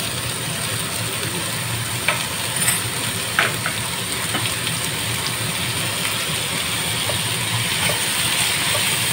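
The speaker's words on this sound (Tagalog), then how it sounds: "Ngayon nilagay na natin yung ating squid or sliced puset." Sliced squid fries in a pan with a steady, loud, dense sizzle, broken by a few brief clinks of utensils.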